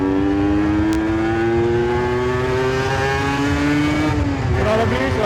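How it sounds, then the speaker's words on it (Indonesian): A motorcycle ridden at higher speed, picked up through a wireless mic inside the rider's helmet: a loud, continuous engine drone with steady rising pitch and rushing wind, shifting tone near the end. "dan ini ketika gua tes menggunakan kecepatan yang lebih tinggi cuy."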